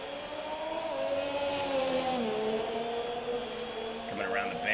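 A race car in a sim racing sprint event howls past, its engine note holding high then dropping as it shifts and fades, with a commentator talking over the steady whine.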